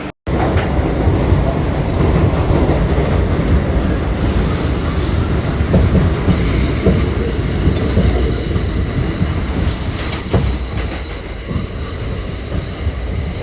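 Train arriving on an elevated track in Jamaica, loud rumbling wheels with clickety-clack and a sustained high metallic squeal as it slows close by.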